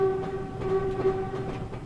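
Electric train on the Woodhead route in Train Simulator, a steady engine drone with a sustained horn-like tone and light rhythmic clicks of wheels on track, moderately quiet and without talk.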